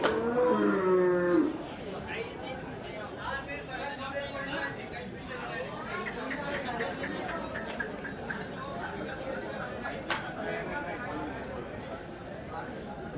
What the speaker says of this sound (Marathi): मित्रांनो आज ज्या बाजारात गाई आले आहेत क्वालिटीच्या गाई आल्या